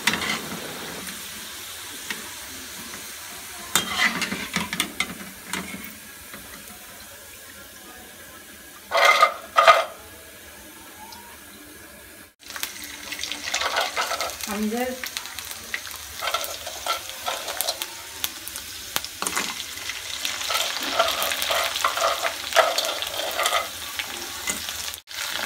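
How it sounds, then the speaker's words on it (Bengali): Syringe-piped flower pitha rice cakes frying in hot oil, a loud continuous sizzle with occasional stirring and a short break partway through, and no talk. "এই পিঠাটা আমার বানানো, এটা এখন ভাজা হচ্ছে।"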